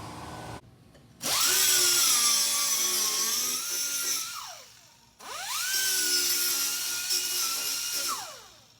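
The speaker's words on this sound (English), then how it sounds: "I'm gonna go in there and cut that piece of cross member." A cutting wheel slices through a steel cross member on a NASCAR Craftsman Truck project, making a loud, close, high grinding whine in two long cuts. The pitch sags under load, then rises as each cut ends.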